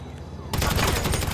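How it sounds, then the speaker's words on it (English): Gunfire in the GTA V video game breaks out suddenly after a quiet moment: a dense, loud burst of rapid automatic shots. "He's just shooting you through the wall, getting kills."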